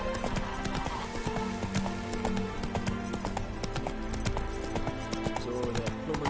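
Roach the horse runs flat out in The Witcher 3, its hooves pounding in a fast, steady clatter under loud game music, with an occasional neigh.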